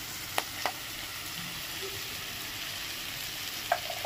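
Ground cumin and chilli powder frying gently in a pan for restaurant-style prawn rice, a soft steady sizzle broken by a few sharp clicks of a utensil against the pan.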